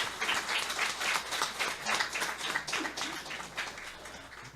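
A church congregation applauds together, with sustained, moderately loud clapping that swells and dips in uneven rhythm, with no talking over it.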